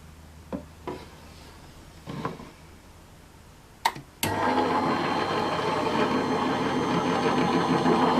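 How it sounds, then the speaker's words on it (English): A die cutting machine presses cardstock through a foil and emboss die, starting with a few handling knocks and clicks, then a loud continuous mechanical whirring and grinding that runs steadily to the end. "I'm just going to run it through my die cutting machine"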